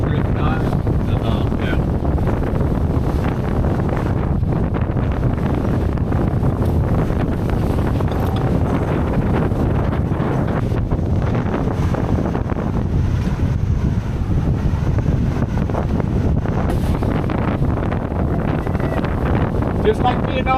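Sailboat crossing open water from Taha'a to Bora-Bora in French Polynesia, with steady, loud wind buffeting the microphone over a broad rush of water and hull movement that continues throughout.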